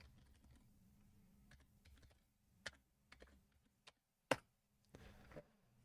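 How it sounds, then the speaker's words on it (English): Someone types on a computer keyboard in short, irregular bursts of clicks, with one sharp loud keystroke standing out near the end, set against a quiet room. "Sorry for typing."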